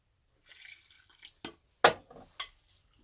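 Small splashes and drips of water added bit by bit to stiff homemade bread dough come as a few sharp, close, separated wet slaps and taps.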